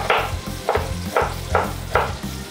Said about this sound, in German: Den Ingwer braten wir auch mit an.